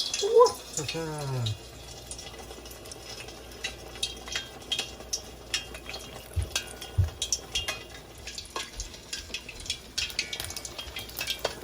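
Balls of Lao crispy rice (nam khao) dropped into hot oil, frying with a busy crackling bubble and scattered clinks as they are moved around, a voice speaking briefly at the start.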